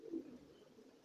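Domestic pigeons coo softly in a low, throaty murmur, a brief close warble under faint background noise.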